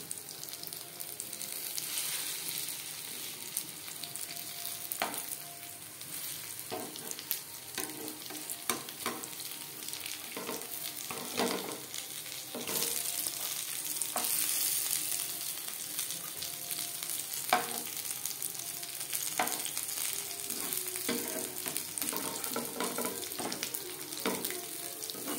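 Slices of rui fish fry crisp in oil and are turned over, giving a loud, continuous sizzle broken by frequent stirring and spatula scrapes, with no one talking.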